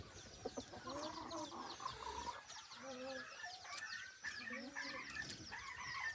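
A mother hen clucks repeatedly after being released, close and steady, in a string of short, throaty clucks with a few louder squawks among them.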